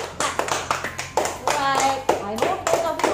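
Children clap their hands in a quick, uneven patter indoors during a memory game, the claps close and mixed with kids' voices talking and cheering over them.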